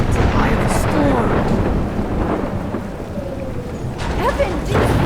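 A thunderstorm in Life Is Strange: loud, steady rain and deep rolling thunder fill the scene, with wind gusts and occasional swelling rumbles.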